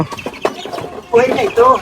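Hens cluck in short bursts close by, mixed with background chatter and voices, the clucking growing louder near the end.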